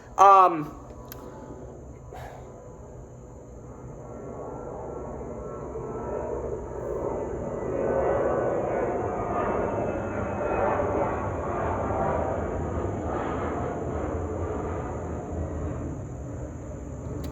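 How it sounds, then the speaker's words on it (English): After a brief sharp knock, a jet airplane rumbles overhead, its low drone swelling steadily louder and lingering, with faint talk underneath. "is there seriously another plane?"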